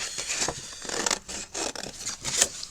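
Scissors snipping through paper cover stock for a mini folder craft, several quick close cuts in a broken rhythm with short pauses between strokes.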